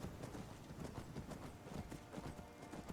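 A horse's hooves clip-clop in a steady, quick rhythm on a road in Skyrim, faint but continuous across the whole stretch with no other prominent sounds.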